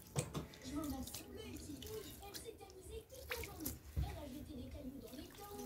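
Liquid is poured over couscous in a home kitchen, giving soft, close splashing and trickling under steady talk throughout.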